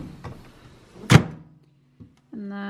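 A kitchen microwave oven door gives a single sharp thunk as it is shut, then a brief tap follows, and the oven starts up with a steady low hum near the end.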